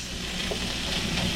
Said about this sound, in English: We get our sausage in there. Get it to sizzling.